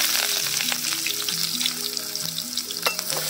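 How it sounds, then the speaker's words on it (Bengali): Chopped onions sizzle and crackle in hot oil in a wok while being prepared for chicken chowmein, a steady close frying hiss with stirring scrapes throughout and a faint tonal hum beneath. "দেখুন বন্ধুরা, তেল গরম হয়ে গেছে। এবার দিচ্ছি পেঁয়াজ কুচি।"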